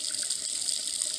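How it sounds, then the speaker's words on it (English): Steady water flow from a Moen kitchen faucet bought at Costco, a continuous close hiss of running water with no talk over it. "When you turn to the hot water, now it runs"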